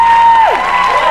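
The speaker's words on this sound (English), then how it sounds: "Round of applause for Abby, guys." Audience applause and cheering at a live talent show grand final, loud and sustained under a held music tone that slides down, with a broad crowd roar throughout.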